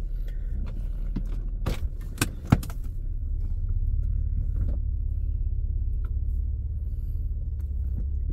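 A 2004 Acura TL drives through a neighborhood, its engine and road noise a steady low rumble from inside the cabin, with a few sharp clicks and rattles early on.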